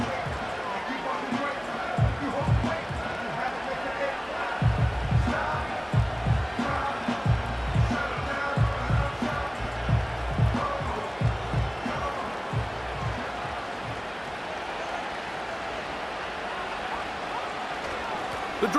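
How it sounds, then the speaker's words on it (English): Football stadium crowd at a New York Jets versus Minnesota Vikings game, a broad roaring murmur that swells and rises in waves, with an announcer talking over the noise. "And they're going to hear it from this crowd."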